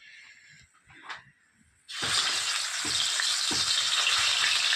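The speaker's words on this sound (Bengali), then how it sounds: "এবার কিন্তু মাছ ছাড়ার পালা। এই মাছটা দিনে কিন্তু প্রচুর ফাটে" Fish hits hot oil in a pan after a couple of seconds of quiet clinks, bursting into a loud, sustained sizzle with occasional sharper pops and crackles, close up and with no voices.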